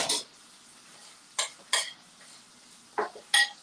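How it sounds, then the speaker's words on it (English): Tofu stirred around in a pan: a utensil scrapes and clinks against the pan in several short, bright bursts separated by quiet pauses, close up and alone. "I'm just going to check on my tofu. So just give it a little move around."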